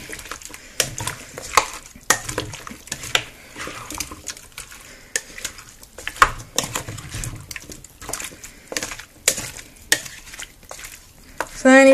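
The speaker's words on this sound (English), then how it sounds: "we are going to go ahead and give it a nice mix" A spoon stirs and scrapes a Moroccan stew mixture in a pan, making soft irregular scraping and clinking with a faint sizzle under it.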